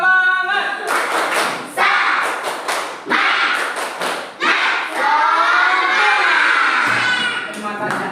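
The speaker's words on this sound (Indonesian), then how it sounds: "Tepuk semangat." Schoolchildren in a classroom perform a rhythmic spirit clap, bursts of group claps and thumps in a chanting pattern with children's voices calling along, loud and close.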